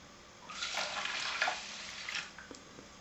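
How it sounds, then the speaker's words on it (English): Water poured from a container into a saucepan holding rinsed quinoa on a kitchen stove, a soft rushing splash lasting about two seconds, close and moderately loud, then trailing off into a few faint drips and clinks. "and then put the water with the quinoa"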